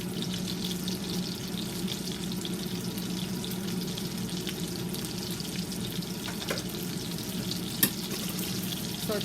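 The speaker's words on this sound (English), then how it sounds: "so it's frying up" Milanesa cutlets sizzle and fry steadily in a hot pan, a dense, even crackle with one brief sharp clatter near the end and no talking.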